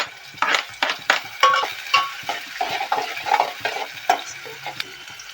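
Tomatoes are added to onions frying in a pan, and the sizzle comes with a series of close scraping, clattering stirring strokes in an uneven rhythm.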